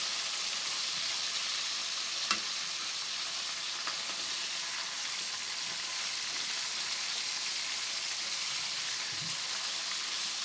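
Pork frying in butter and garlic in a pan gives a steady, loud sizzle that stays even throughout, with a faint clink or stir now and then and no voices.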